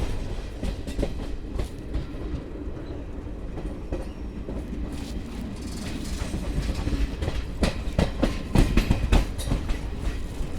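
The Chennai Garib Rath Express rolls into Agra Cantt station, a steady rumble with rhythmic clickety-clack of wheels over rail joints, growing a little louder and busier toward the end, heard from on board without any talking.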